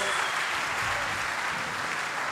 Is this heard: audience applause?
yes